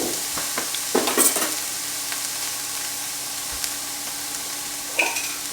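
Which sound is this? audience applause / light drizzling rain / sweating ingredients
sweating ingredients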